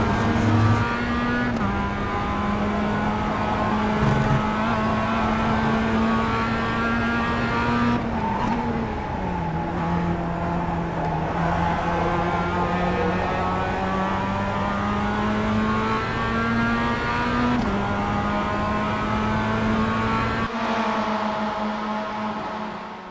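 Race car engines in the iRacing sim racing game, a steady droning engine note that shifts pitch with gear changes and throttle, close and continuous for the whole stretch with no talk.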